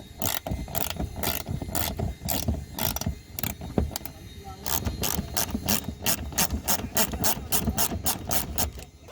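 A ratchet fitted with a 10mm socket backs out a mudflap screw on a 2019 Toyota RAV4, giving bursts of rapid clicking up close, a pause with some handling noise, then a long fast run of clicks.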